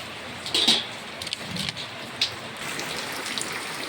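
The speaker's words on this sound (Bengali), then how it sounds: "এখন দেখেন কি থই থই বৃষ্টি" Heavy rain falling in a steady wash, with a few sharper drip or splash hits near the start and middle, moderately quiet, no voices.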